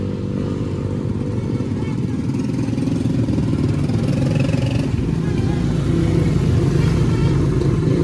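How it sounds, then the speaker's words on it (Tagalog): Loud, steady motorcycle traffic rumbles past on a busy street, engines droning and revving continuously close by. "Maingay na po ngayon dito. Marami po mga motor."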